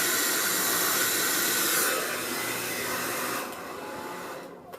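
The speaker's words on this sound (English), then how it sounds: "so that is how you blow dry a side swept bang" A hair dryer fitted with a concentrator nozzle blows side-swept bangs dry, giving a loud, steady airy whoosh up close that drops to a lower level partway through and then cuts off at the end.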